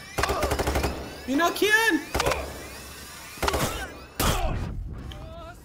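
Bursts of gunfire from the video game Payday 3 come in several loud, sharp clusters of rapid shots separated by pauses, with a voice speaking between the volleys.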